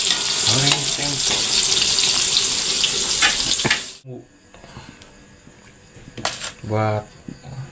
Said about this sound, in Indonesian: Kita goreng tempe, lur.